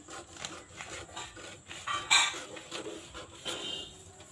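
Scissors cut through blouse fabric in a series of soft, close rubbing snips, irregular and quiet, with one brighter crisp cut near the middle.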